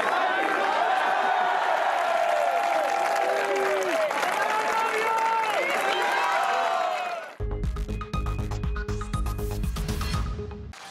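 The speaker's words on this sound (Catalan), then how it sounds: "els manifestants van aplaudir i ovacionar la parella demanant-los que es fessin un petó" A crowd of protesters applauds and cheers a newlywed couple, a dense, continuous wash of clapping and shouts for about seven seconds before it cuts abruptly to a different, tonal sound.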